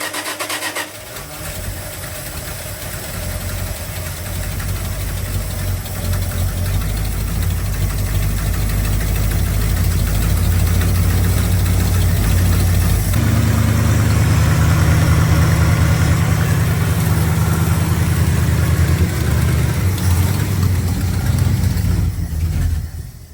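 A 1978 Dodge engine runs at a steady idle while its mechanical fuel pump is primed, a loud, continuous low rumble that holds even for the whole stretch with no talk.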